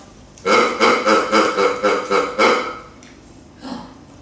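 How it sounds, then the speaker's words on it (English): A squeaky dog toy that makes a duck-like quack gives a rapid run of about eight loud, nasal honks, followed by a couple of fainter squeaks after a pause, heard close and with no talk over it. "it makes this duck sound"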